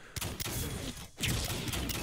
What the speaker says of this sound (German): es gibt halt immer mehr von diesen Explosionen